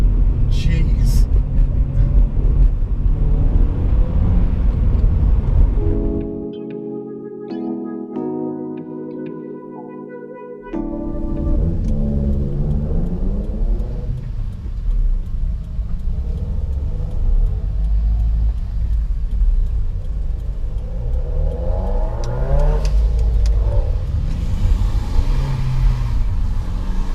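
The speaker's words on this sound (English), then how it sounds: "my window's down because I wanted you to hear the noise of those cars" Modified Japanese cars drive past on a rural road with a window down, their engines a loud, steady rumble with a quieter gap midway, heard under someone talking over the noise.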